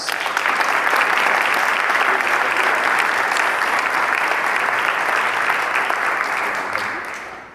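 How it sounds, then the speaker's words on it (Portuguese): A church congregation at a diocesan preaching vigil claps for Jesus, a dense, sustained round of applause that holds steady and then fades out near the end. "Dá uma salva de palmas para Jesus"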